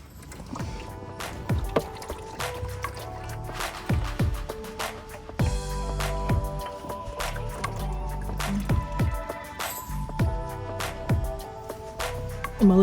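Engine oil draining from a car's oil pan with the filter off, irregular drips and splashes into a catch container, close and moderately loud, with occasional knocks and no speech.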